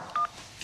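Two short telephone keypad tones beep as a number is dialed, close and clear over a quiet room.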